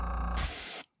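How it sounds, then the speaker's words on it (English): A short burst of spray paint hisses onto a Strike King crankbait lure, putting dots of darker green over the finish, a loud steady spray lasting under a second that cuts off cleanly. "just a little bit darker green, just spray some dots."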